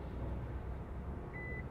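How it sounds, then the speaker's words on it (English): A Kia Telluride's power liftgate gives a single short, clear electronic beep after its button is held down, set against a low, steady background hum. "hold the button down till you hear the beep"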